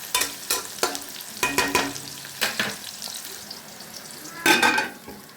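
Onion frying and softening in a pan, with a soft continuous sizzle and repeated scraping strokes of a spatula, one louder stir near the end.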